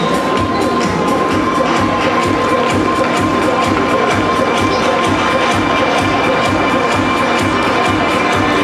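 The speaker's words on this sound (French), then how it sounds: "applaudissements, vous avez raison, pour David Kuster qui passe maintenant devant nous" Spectators cheer and shout steadily at the Meeting Stanislas in Nancy as a race walker passes during the 5000 m walk, a loud, continuous crowd roar with children's voices mixed in.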